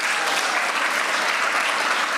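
A competition audience breaks into dense, steady applause, many hands clapping together at an even loudness without a pause for the full stretch.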